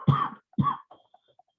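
Two sharp, close coughs in quick succession from a person indoors in a moldy room, each a harsh burst followed by quieter throat sounds, otherwise silent between.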